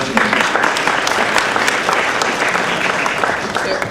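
Audience of high school students applauding at a school event, dense sustained clapping throughout, close and loud, with a voice speaking over it.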